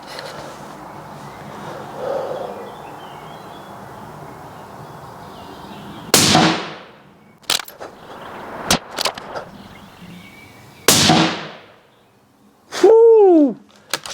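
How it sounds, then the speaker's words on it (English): Several sharp gunshots fired through a compact rifle suppressor, each a loud muffled crack with a short tail, spaced irregularly with quieter handling noise between, the last followed by a ringing metallic ping from a distant target. "This is the compact. It doesn't have quite the suppressing effect of the full size"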